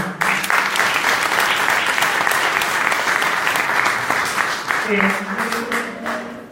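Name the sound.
audience applause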